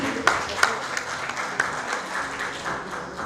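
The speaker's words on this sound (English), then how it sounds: "Ladies and gentlemen, please give a round of applause for this amazing team." A crowd applauds steadily, a dense patter of many hands with a few sharper claps standing out near the start.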